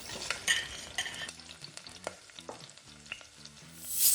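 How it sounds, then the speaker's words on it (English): Potatoes blanch in 300-degree oil for fish and chips, bubbling and crackling in a close, continuous sizzle with stirring noises and a swell of hiss at the end. "we'll leave the potatoes to cook until they start to go a little golden brown."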